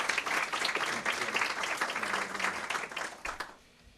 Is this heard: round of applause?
yes